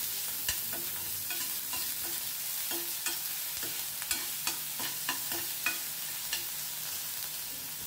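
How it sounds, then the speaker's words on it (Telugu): Sliced onions and a split green chilli fry in a pan for gobi manchurian, giving a steady close sizzle broken by regular scraping clicks of a spatula stirring, with no talk. "సన్నగా తరిగిన ఉల్లిపాయ ముక్కల్ని ఒక పచ్చిమిర్చిని కూడా ఇలా చీలికలుగా చేసుకొని అవి కూడా వేసుకొని ఒక 2 నిమిషాలు మళ్ళీ వేయించుకోవాలి."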